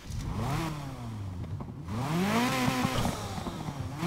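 A 4.4-litre stock V8 engine in the video game Need for Speed Heat revs hard in two surging swells, its pitch climbing and falling, loud and close with no talking.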